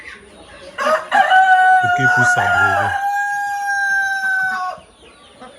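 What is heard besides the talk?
purebred Brahma chickens crowing and clucking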